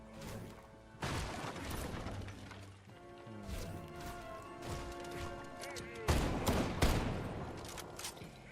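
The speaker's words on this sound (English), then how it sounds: "Why is someone shooting at me?" Gunfire in a video game, including an auto shotgun, comes in loud bursts of rapid shots and crashing impacts, with quieter mechanical clatter between the volleys.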